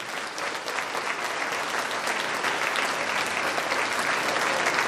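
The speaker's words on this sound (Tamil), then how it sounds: "அந்த டீச்சர்ஸுக்கு எவ்வளோ கைத்தட்டு கொடுக்கணும் நீங்க?" An audience at a school annual day gives sustained applause for the teachers, dense steady clapping from a large crowd that holds for several seconds without speech.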